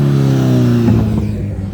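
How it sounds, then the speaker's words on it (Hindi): A motorcycle passes close by on a road. Its loud engine drone holds steady, then its pitch drops as the bike pulls away, and the sound fades slightly toward the end. "ये बाइक गुजरने दो फिर बता दो।"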